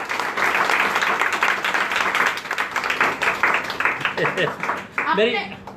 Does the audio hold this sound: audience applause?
yes